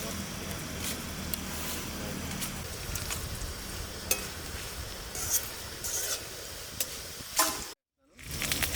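Dried red chillies, with chana dal, peanuts, urad dal, mustard seeds, garlic and cumin, sizzle and crackle in hot frying oil as a steady close hiss with scattered pops, stopping briefly near the end.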